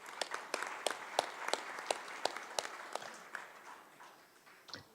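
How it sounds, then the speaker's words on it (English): Sparse applause at a parliamentary assembly sitting: a handful of distinct, sharp hand claps in loose irregular rhythm, moderately close, thinning out toward the end, with no voices. "Can you please give a round of applause to Dr."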